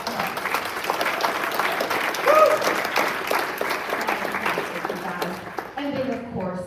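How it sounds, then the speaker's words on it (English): A conference audience breaks into sustained, dense applause that fills the room steadily, with a brief louder swell partway through before it thins out near the end. "So give yourselves a huge applause."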